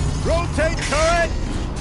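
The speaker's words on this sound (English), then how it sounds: "Rotate turret!" Tank turret traversing in a video game, a mechanical whirring with rising creaky whines and ratcheting clicks, loud and continuous under a low rumble.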